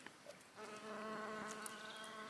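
A bee buzzes steadily among gorse flowers, its close, even drone holding for about two seconds after a brief quieter start, with no talk over it.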